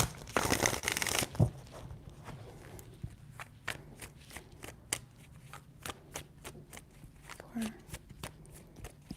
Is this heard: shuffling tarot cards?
yes